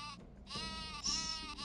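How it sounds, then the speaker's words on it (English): The Super Sheep in the Worms Armageddon video game lets out a loud, close, wavering cartoon bleat, broken briefly and then resuming, with game music or ambience underneath. "Did you pick the Super Sheep?"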